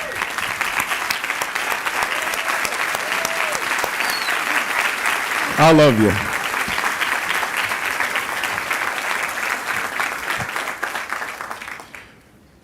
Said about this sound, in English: Would you please stand up and take a round of applause?